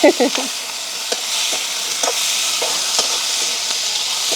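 Steady sizzling of onions and tomatoes sautéing in a pan, with occasional stirring clicks and scrapes near the start, continuous and fairly close.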